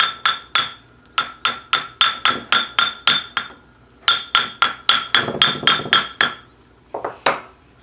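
A rawhide hammer shapes a sterling silver bangle on a mandrel in bursts of sharp, ringing metallic taps. About a dozen quick strikes come, then a pause, another run of strikes and a few last taps. The taps are close and loud with no talking.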